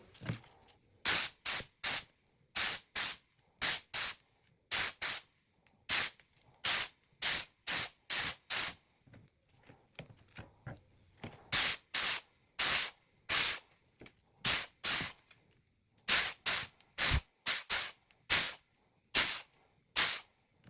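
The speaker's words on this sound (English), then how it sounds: "Now let's give it the first coat of clear coat." Clear coat is sprayed from an aerosol can onto a BMW E39 door handle in many short, close hissing bursts, each about half a second, repeated in a steady rhythm with brief pauses between.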